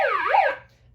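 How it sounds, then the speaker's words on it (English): A toy siren gives one short rising-and-falling electronic wail, loud and close, then cuts off into quiet within a second. "we got our little siren guy here"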